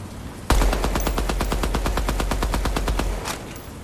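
In the video game Deadrop, rapid automatic gunfire is aimed at targets, a sharp burst of evenly spaced shots rattling off in quick succession for about three seconds, loud and close.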